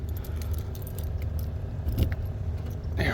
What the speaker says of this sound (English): I can lock it from out here. I do have the keys.